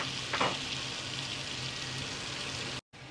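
Ginger and garlic sizzle in a pan with cooked-down tomatoes, a steady close crackling hiss with a brief stirring scrape early on and a short dropout near the end.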